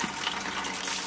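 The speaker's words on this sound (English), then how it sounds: "all of the water from the boiler has gone through here for the mash tun" Hot water from a home-brewing boiler pours steadily through a mash tun while brewing a Guinness-style ale, a continuous close gushing splash with no talking over it.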